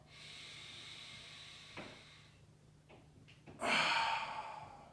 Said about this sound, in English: Take a deep breath into your abdomen